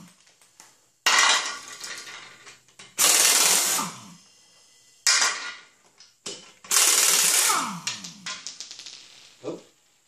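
Lug nuts coming off a 2003 Ford Explorer wheel: loud bursts of an impact or power tool rattling for a second or so each, separated by clinks and quieter handling noises.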